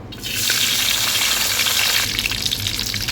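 Garam masala hits hot oil for egg korma with a sudden loud sizzle that hisses steadily, then eases slightly as a stirring scrape comes in.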